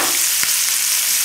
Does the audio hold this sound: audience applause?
no